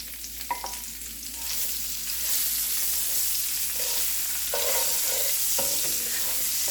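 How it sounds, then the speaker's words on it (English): Onions and jalapeños sauté in bacon grease in a skillet, a steady close sizzle that swells as they are stirred, with a few utensil clicks at the start. "I'm using the bacon grease that is in this skillet to saute or to caramelize my onions and my jalapenos"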